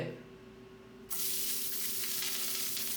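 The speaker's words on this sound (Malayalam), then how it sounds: "ഇനിയിപ്പോൾ നമുക്ക് ചട്ടിയിൽ ഇനി വെളിച്ചെണ്ണ പാരാം" Coconut oil pours into a pan, a sudden steady hiss that begins after a quiet second and holds evenly to the end.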